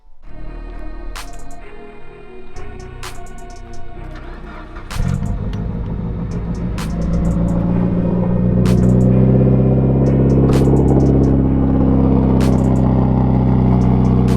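A Mitsubishi Evo 8, just put back together after a fault, starts out with a steady idling hum, then its engine swells into a loud, rising rumble as the car pulls away and drives on.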